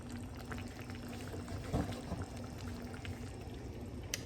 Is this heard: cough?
no